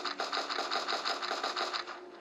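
A rapid, even series of sharp pistol shots from a Unity game, about a dozen in two seconds, fairly quiet with no talking.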